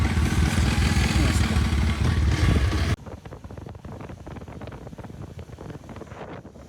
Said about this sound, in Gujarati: જો ખાલી બાઇક ચાલુ કરી બાઇક સ્ટાર્ટ કરી